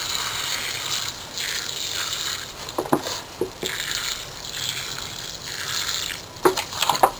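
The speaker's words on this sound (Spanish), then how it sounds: "Yo las riego de esta manera una sola vez." Water trickles and splashes steadily over soil in pots of cactus and succulent plants, with a few sharper clicks and drips standing out near the end; no one speaks.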